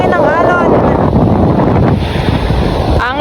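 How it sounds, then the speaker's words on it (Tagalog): Strong cold wind buffets a beach with big surf, roaring steadily and loudly throughout with crashing waves mixed in, close to the microphone. "Ang lamig, lakas ng hangin."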